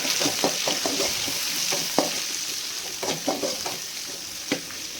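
Chopped onion, green chili and curry leaves are stirred in hot oil for a lady's finger fry, giving a steady close sizzle broken by repeated soft scraping strokes of the spoon against the pan.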